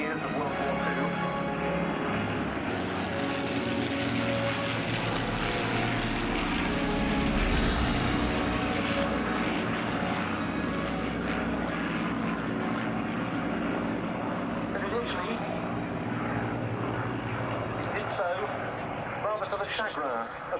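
A P-51 propeller fighter at the Duxford air show drones steadily overhead, swelling as it passes, with an announcer talking throughout.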